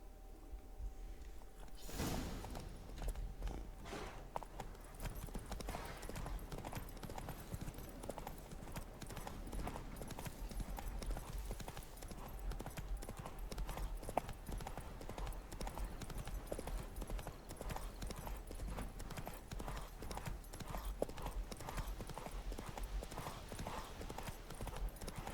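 Horse hooves clip-clopping steadily at a trot in The Witcher 3: Wild Hunt, a continuous rhythmic stream of hoofbeats throughout under a constant background bed, with no clear talking over it.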